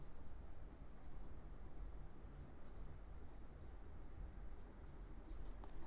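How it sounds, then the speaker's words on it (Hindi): Faint scratching strokes of writing on a board during a class, repeated in short bursts amid a quiet background hiss. "फिर से लिख रहा हूँ"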